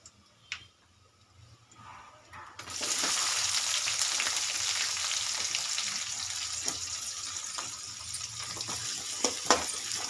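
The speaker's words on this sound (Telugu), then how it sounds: "ఇది బాగా ఫ్రై చేసుకొని ఇందులో మనము ఉల్లిపాయ ముక్కల్ని వేసుకుందాం" Onion pieces dropped into hot oil in a pan for a Telugu-style amaranth leaf fry, with a sudden loud, steady sizzle that begins a few seconds in and carries on. Occasional light clinks and stirring sounds are heard over it.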